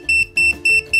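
A small wireless queue pager emits four evenly spaced, shrill high-pitched beeps in a steady pulsing pattern, close and loud.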